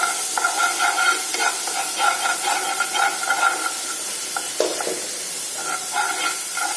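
Ginger, garlic and onion paste fries in butter in a pan for a chicken dish in lemon butter sauce, giving a steady close hiss and sizzle with occasional stirring noises throughout.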